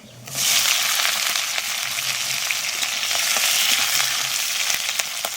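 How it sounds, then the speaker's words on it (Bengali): Mustard seeds and dried red chilies hit hot oil as a tempering for greens, bursting into a sharp, close sizzle with faint crackles and light clinks of stirring. "ভাজা দিয়ে দেবো সর্ষে আর শুকনো লঙ্কা"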